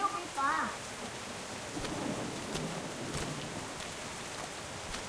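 Steady rain hisses throughout in The Walking Dead Season 1 game on PS5, with a faint low rumble underneath and a brief voice near the start.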